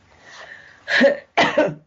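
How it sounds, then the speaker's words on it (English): Two close, harsh coughs following a faint throat sound, with a short pause between them. "I'm sorry, I'm coughing."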